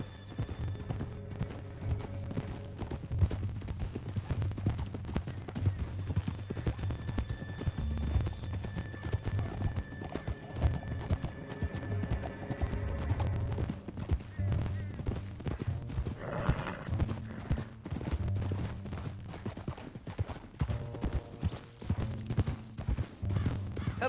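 Horse hooves gallop in Red Dead Redemption 2, a steady, continuous clip-clop drumming along at a brisk pace for the whole stretch, close and prominent over a low rumbling ambience.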